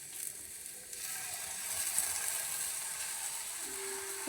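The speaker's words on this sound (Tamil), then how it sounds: "ப்ரோ இப்போ முட்டை ஊற்றிக்கலாம் ப்ரோ." Beaten egg poured into a hot pan with sautéed ingredients gives a steady, close sizzle with faint crackling, running continuously throughout.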